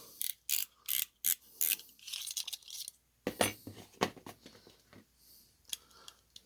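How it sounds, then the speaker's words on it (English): An 18 mm Fiskars Pro snap-off blade is slid into an OLFA L5 utility knife, giving a run of close, crisp plastic-and-metal ratchet clicks, then scraping and a few softer clicks as it seats. "So we'll try the Fiskars Pro blade inside the OLFA L5."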